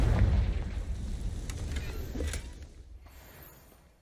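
A Confringo fire spell in Hogwarts Legacy bursts with a loud, booming blast that opens the clip, followed by crackling pops and a rumbling tail that slowly fades away.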